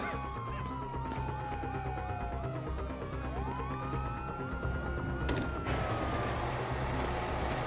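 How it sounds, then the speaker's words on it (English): Police sirens in Grand Theft Auto V wail and sweep up and down amid engine rumble and street noise, with a sudden crash partway through. "you hear that? Sirens."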